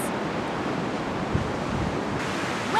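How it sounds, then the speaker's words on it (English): Ocean surf at a beach washes in as a steady broadband rush, with wind noise buffeting the microphone and a slight swell near the end, no voices. "Waves happen when the wind moves across the top of the water surface and causes friction."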